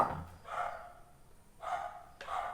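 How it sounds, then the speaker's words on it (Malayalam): A dog barks several times at a distance, short muffled yelps spaced out with quiet gaps between them. "അടുത്ത വീട്ടിൽ നശിച്ച പട്ടി"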